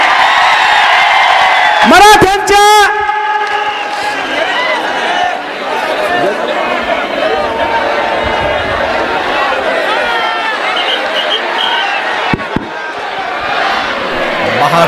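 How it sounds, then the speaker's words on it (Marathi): A huge rally crowd for Manoj Jarange in Beed roars and chants in a loud, continuous wash of voices, with a sharp whistle and slogan shouts rising early on. "महाविराट गर्दी जरांगेंच्या सभेसाठी जमलेली आहे"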